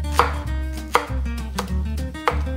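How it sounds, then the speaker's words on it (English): A knife chops bok choy on a cutting board, four sharp, evenly spaced cuts ringing out close and loud over a steady low hum, with no voices. "First, cut your bok choy."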